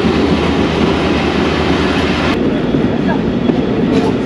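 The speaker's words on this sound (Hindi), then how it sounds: "कुछ ही देर में ये ट्रेन लकी शाह सदर रेलवे स्टेशन पहुंचेगी" The Mohen-jo-Daro Express rolls along rails in Sindh, with a loud, steady rumble and wheel noise that continues close by throughout.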